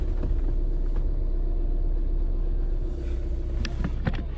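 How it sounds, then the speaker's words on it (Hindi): A 2026 Tata Nexon diesel car idling after starting, a steady close engine rumble with a low diesel clatter, heard alone with a few faint clicks near the end. "अब इसको करते हैं स्टार्ट और दिखाता हूँ आपकी इसकी इंजन नॉइज़ कितनी है"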